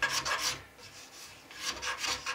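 A wooden instrument part is smoothed by hand with a rasping, rubbing stroke, close and repeated in short back-and-forth bursts with a brief lull in the middle.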